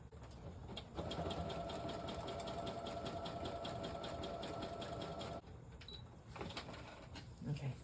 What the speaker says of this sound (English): Okay, there we go. I got it stitched.